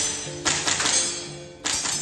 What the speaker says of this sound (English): That's the sound of ordinary citizens learning how to fire guns.